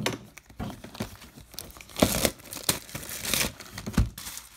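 A hobby box of 2019 Topps Allen & Ginter baseball cards is torn open, with loud close crinkling of wrapper plastic and ripping paper in irregular bursts, no talk over it.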